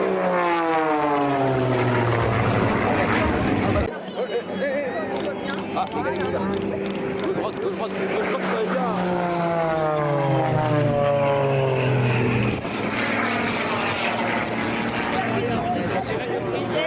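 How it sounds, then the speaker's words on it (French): Aerobatic team planes fly close overhead at an air show at Istres air base, their loud propeller engine drone rising and falling in pitch as they sweep past, with voices in the background. "Les avions se rapprochent de nous pour un éclatement intermédiaire."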